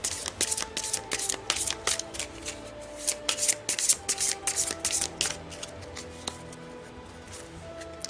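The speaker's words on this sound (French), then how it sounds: "on va tirer 13 cartes de l'oracle du petit enchanteur" Oracle cards are shuffled by hand in a close, steady run of rapid riffling and rubbing card noise, with no one speaking.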